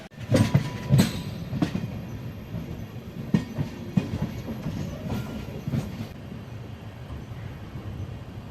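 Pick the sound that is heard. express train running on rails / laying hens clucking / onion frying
express train running on rails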